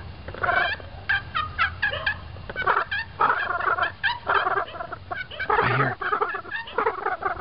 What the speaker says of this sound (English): I hear a gobble.